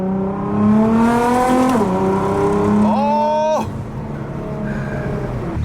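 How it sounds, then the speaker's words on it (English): Widebody Nissan GT-R accelerating uphill, its engine note climbing steadily through the revs with a gear change, loud and close, and a brief exclaiming voice near the start. "Let's see how this car pulls on an uphill."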